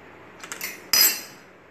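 A knife loosens and cuts steamed vattayappam in a metal pan, giving a few light metallic clinks followed by one sharper scraping clank that fades quickly.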